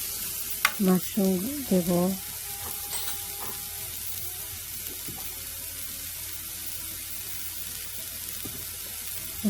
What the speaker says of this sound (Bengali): এখন আমি পেঁয়াজ কুচি দিয়ে দিচ্ছি।